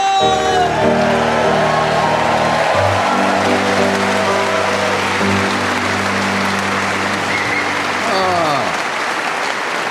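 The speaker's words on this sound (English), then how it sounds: "all the audience here in Exeter clapping along" Live theatre audience in Exeter clapping along in rhythm, a loud dense wash of applause with some cheers and whoops, while music plays underneath.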